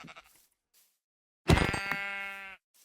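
A sheep in the Minecraft game lets out a single clear, drawn-out bleat, close and alone after a stretch of near silence.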